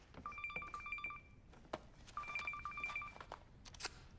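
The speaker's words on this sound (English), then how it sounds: "My phone's ringing." A phone rings with electronic beeping tones in two repeated bursts, separated by a short pause, fairly close and clear.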